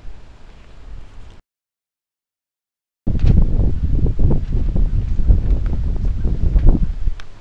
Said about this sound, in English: there's a bit of wind today